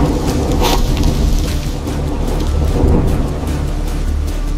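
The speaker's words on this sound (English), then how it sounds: "Amid the crashing thunder" Crashing thunder rolls through a heavy rainstorm in a prehistoric forest, loud and close, with deep rumbling under a constant hiss of rain and a sharp crack early on.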